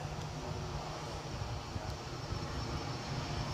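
Aircraft departing Edinburgh airport for Berlin, a faint, distant low engine rumble with wind noise, steady and brief.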